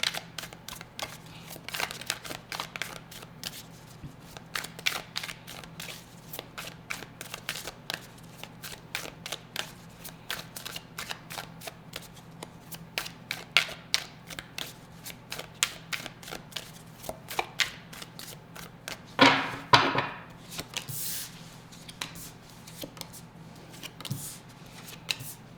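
A deck of tarot cards is shuffled over and over in a quiet room, a long run of quick riffling flutters and soft slaps, close and fairly faint, with a louder burst of riffles near the end.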